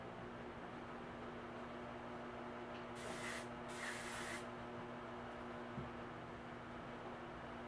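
Two short hissing bursts from a hairspray can, close by, over a quiet steady background hum.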